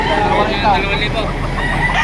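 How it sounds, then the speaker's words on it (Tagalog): Chickens at a crowded chicken market in Lipa, Batangas: a rooster crows over continuous clucking and flock chatter, with people talking nearby and faint road traffic underneath. "Ang daming manok dito."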